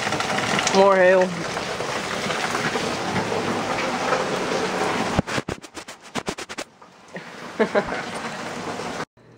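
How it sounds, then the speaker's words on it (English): Hail pelting down during an Alaskan hailstorm makes a steady, dense patter, with people talking over it and distant cheering; the roar breaks off into choppy bursts partway through. "Look at the hail."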